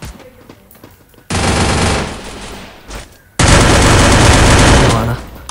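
Two long, loud bursts of rapid automatic gunfire ring out in a shooting video game, the second burst heavier and longer, with quieter in-game sounds between them.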